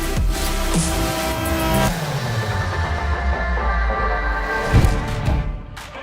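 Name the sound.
Porsche and Ferrari cars drag racing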